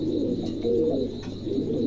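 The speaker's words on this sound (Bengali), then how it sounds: "ইউসেফের কবুতর ভালো লাগলে অবশ্যই সংগ্রহ করতে পারে" Low, throaty cooing of Mundi pigeons, a couple of soft rolling calls close by over a steady background hum.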